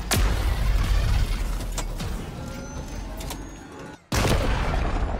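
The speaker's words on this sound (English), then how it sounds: "I'll say this about the Wraith. It's got a very loud, giant, exploding type of sound." Explosions from a Wraith tank in the Halo game: a heavy boom opens, rumbling blasts and debris follow, a brief near-silence falls, then another loud blast hits.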